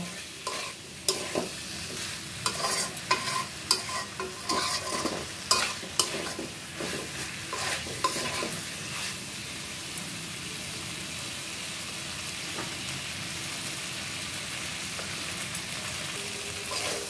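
Potato and pointed gourd being stir-fried in a pan for an egg and pointed-gourd curry: rapid scraping spatula strokes over the first half, then a steady, even sizzle continuing alone.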